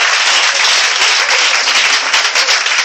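A church congregation bursts into sustained loud applause and clapping, a dense steady roar of many hands close and filling the room, with no break over a few seconds.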